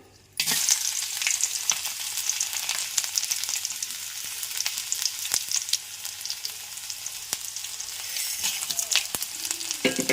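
Spices crackle and sizzle sharply in hot oil for tempering after a sudden start, with scattered pops and the occasional scrape of stirring, while cooking radish stew; no talking.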